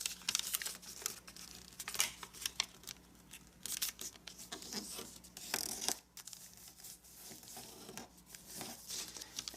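Paper is creased and folded for an origami maze, giving soft crinkling, rustling and scraping sounds close by, quiet and uneven with small taps and sliding strokes.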